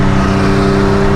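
A 2020 Dodge Challenger Hellcat Redeye accelerates hard with a loud, steady, close engine roar and a deep droning tone held throughout.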